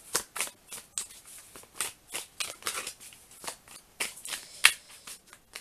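Tarot cards shuffled by hand in a series of quick crisp riffles and slaps, close and fairly quiet, with no speech.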